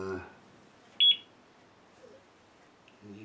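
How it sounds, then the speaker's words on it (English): A Geiger counter held near Fiesta Ware in a living room gives a single sharp, short electronic beep in an otherwise quiet room, with people speaking briefly at the start and the end. "you can hear it's beeping"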